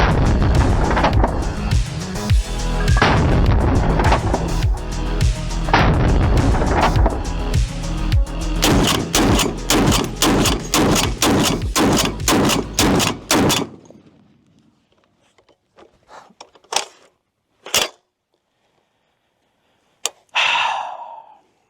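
Barrett .50 caliber rifle fire in a video game, a long run of loud, evenly spaced heavy shots layered over dense game noise, then a few isolated sharp reports with silence between them near the end.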